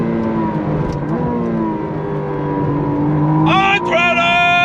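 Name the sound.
McLaren Artura Spider engine on throttle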